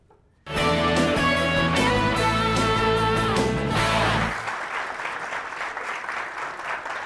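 On a Catalan television spelling game show, a loud burst of music plays for about four seconds and then gives way to a steady wash of studio audience applause that continues to the end.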